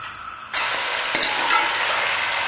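Chicken hits a hot pot (degchi) of oil with ginger-garlic paste and a loud, sudden sizzle bursts out. The frying then continues as a steady hiss close by.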